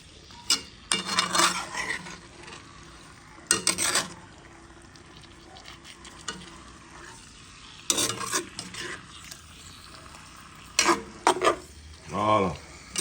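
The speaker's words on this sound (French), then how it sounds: "Je mélange bien. Je mélange tout ça." A spoon stirs a shrimp and toothfish curry in a pot in scraping bursts with pauses between them, close and fairly loud over a faint simmer.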